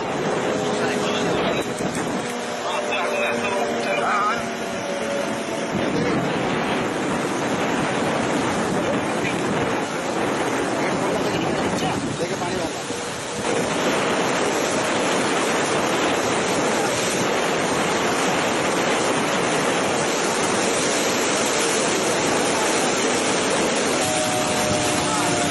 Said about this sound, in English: The world's longest dam gates opening to unload the flooded water from the other side.